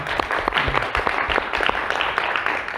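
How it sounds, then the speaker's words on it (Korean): Applause from a congregation at a Sunday church service, a steady wash of hand claps with dense, overlapping strikes lasting throughout at moderate loudness. "영광의 박수를 올려드립니다"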